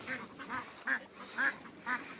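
Native domestic ducks quack on a desert farm in Saudi Arabia, about five short, faint nasal calls in an uneven rhythm at moderate distance, over a quiet outdoor background.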